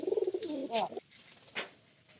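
Pigeons kept on a stairway give a close, soft throaty cooing phrase, followed by quieter rustling and a faint wing flutter in an indoor space.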